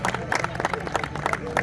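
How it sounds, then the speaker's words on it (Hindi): Audience applause at an award ceremony at a college campus in Jhelum: a short, dense burst of many hands clapping at moderate distance, with a faint murmur of voices underneath. "तालियां बजा दीजिएगा आप, आज आपकी ये ड्यूटी है।"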